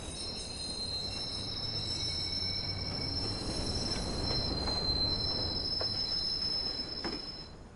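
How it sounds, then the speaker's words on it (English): A train pulls into a station in the video game Watch Dogs, a steady rumbling roll with faint high squeals, loud and continuous for the whole stretch with no talk. "Train arriving shortly."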